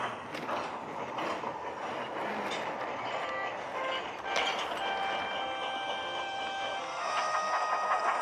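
A steam train pulls away and rolls steadily along with continuous rumbling and clatter, joined later by faint high whistling tones near the end; no voices.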